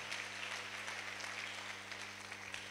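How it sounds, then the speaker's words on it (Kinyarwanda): A church audience applauds during a sermon, producing a steady, continuous wash of clapping that holds at a moderate, slightly distant level throughout, with a faint low hum underneath. "Reka tuyikomera amashyi."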